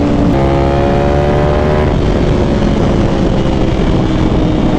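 A Ducati Panigale V4 SP2 with a BT Moto Stage 2 ECU flash roars loud and steady up close, its engine droning continuously with shifting harmonic tones and no talking.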